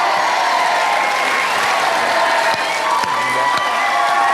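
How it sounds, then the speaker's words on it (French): A studio audience on a French evening entertainment show applauds, a continuous wash of clapping and crowd noise with voices faintly mixed in. "je vous demande d'applaudir"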